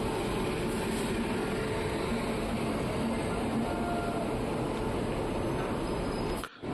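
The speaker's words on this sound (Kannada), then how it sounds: "ಸೊ ಹುಸೇನ್ ಸಾಗರ್ ಎಕ್ಸ್ಪ್ರೆಸ್ ಬಂತು ನೋಡಿ, ಇದರಲ್ಲೇ ನಮ್ಮ ಪಯಣ ಅಪ್ ಟು CSMTವರೆಗೂ." The Hussain Sagar Express pulls into an Indian railway station with a loud, steady, close rumble and rush of noise that fills the whole stretch, briefly dropping out at the very end, with no talk.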